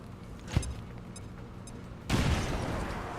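Grenade explosion in the video game XCOM 2, a sudden loud blast that swells into a sustained roaring rumble and debris wash after a brief sharp crack moments before.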